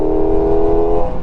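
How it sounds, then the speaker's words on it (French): A Pocket Rocket SRK421 RR mini motorcycle's four-cylinder engine revs in a steady, high, buzzing whine with layered harmonics, loud and close, alone without voices. "À la fois on reconnaît le 4 cylindres, mais c'est pas un bruit profond comme un gros 4 cylindres."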